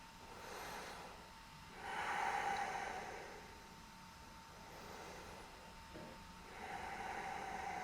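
Slow, deep breaths taken while holding a yoga pose in a vinyasa flow, with a few soft, airy swells of inhaling and exhaling at close range in an otherwise quiet room.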